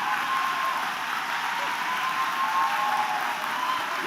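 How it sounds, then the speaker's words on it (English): A commencement ceremony crowd at Montgomery County Community College applauds, a broad, even roar of many hands clapping that holds steady throughout at a fairly strong level. "Give them all a round of applause."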